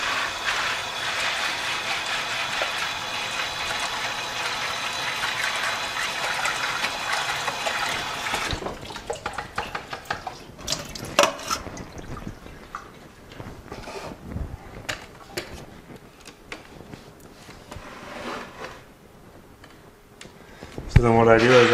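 Warm water pours steadily into a bucket with a loud, continuous rush for about eight seconds, then gives way to quieter sloshing and handling noises.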